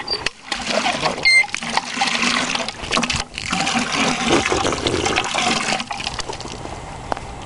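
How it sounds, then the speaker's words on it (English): Water splashes and gushes from a hand pitcher pump on a welded well with a check valve on top, a steady, fairly loud wet rush that comes in bursts, with a voice speaking over it at times. "We do have a check valve on top right here and a pitcher pump."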